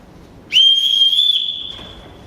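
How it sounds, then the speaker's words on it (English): A single loud, sustained high whistle blast lasting over a second, starting sharply and fading gradually, with no voices. "Everyone in this house answers to a whistle."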